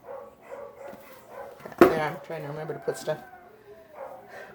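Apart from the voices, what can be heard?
dogs barking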